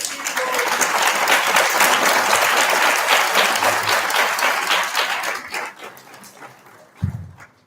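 An audience at a Hare Krishna talk claps in a dense, steady burst of applause that gradually thins out and fades, ending with a single short thump.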